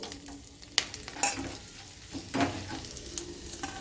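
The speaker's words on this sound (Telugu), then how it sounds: "జీలకర్ర ఆవాలు వేసుకోవాలి మిరియాలు వేసుకోవాలి ఒకసారి కలుపుకొని" Cumin, mustard seeds and black pepper frying in hot tempering oil, a soft steady sizzle broken by scattered sharp crackles and pops as the seeds are stirred, with no voices.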